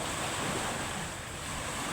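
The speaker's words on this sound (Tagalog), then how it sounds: "Kaya malakas talaga yung amihan." Strong amihan monsoon wind roars across the sea with big waves washing in, a dense, constant rushing noise with no voices.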